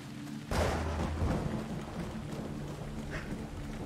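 Rain falls in the video game Assassin's Creed Odyssey, a steady wash of hiss with a low rumble swelling in at the start, then settling into a quieter, even downpour.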